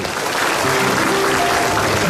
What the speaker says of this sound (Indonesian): Tepuk tangan untuk Desi Ratnasari.